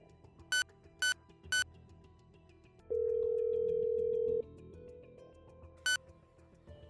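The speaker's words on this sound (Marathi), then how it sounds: "स्वतःला सावरत त्याने लगेच कुणालला फोन लावला." Three quick electronic beeps, then one long steady ringback tone as an outgoing call connects, followed by a final beep in a quiet room.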